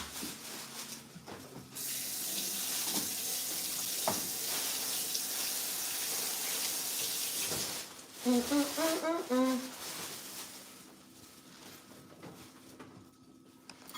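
Potatoes rinsed under a running kitchen tap give a steady, close rush of water lasting several seconds, followed by a short burst of a voice and some fainter handling noise.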